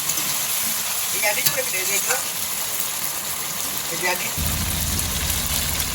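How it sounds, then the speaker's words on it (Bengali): Chicken pieces being stir-fried in a pan for Bengali chicken kosha, with a continuous loud sizzle and stirring scrapes, then a lower rumble joining partway through. "তো বন্ধু দেখো এরপর আমি মাংসটা ভালো করে কষিয়ে নিচ্ছি।"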